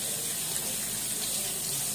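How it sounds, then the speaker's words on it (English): Hands rinsed under a running tap while making cold process soap: a steady, close hiss and splash of water streaming into a sink, unbroken from start to end. "I'm gonna rinse my hands off."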